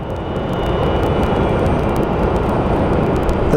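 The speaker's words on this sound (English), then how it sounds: "American Airlines 737 coming in." An American Airlines Boeing 737 airliner comes in to land at Sky Harbor International Airport, its loud, continuous engine roar and broad rumble holding steady and close, with no talk.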